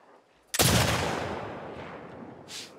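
A single sharp gunshot cracks out loud and close in the video game The Last of Us Part II, its long reverberant tail fading across the next two seconds, with a brief softer burst near the end.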